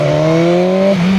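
A Honda 500 X motorcycle engine drones steadily close up after a downshift, a loud, smooth, even tone that holds before shifting slightly near the end.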